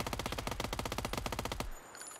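An automatic gun in a video game fires a rapid, even burst of about sixteen loud shots, close and alone, then cuts off abruptly into quiet.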